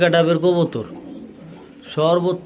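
Pigeons at a seller's place coo loudly close by in two bursts with a quieter gap between them. Someone talks around the calls.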